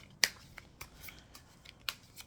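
Tarot cards are shuffled by hand, a few sharp riffling snaps and soft slides scattered across a quiet room, close and fairly faint.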